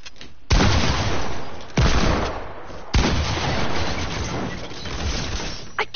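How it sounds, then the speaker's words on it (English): Booming shotgun blasts in a video game, three heavy broadband bursts about a second apart, each trailing into a sustained rumbling roar; no speech. "Why is my shotgun cocking? I didn't even shoot it."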